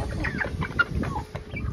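Chickens and young roosters at the end of a growing stage cluck and call in a short, busy run of overlapping near sounds, with no talk.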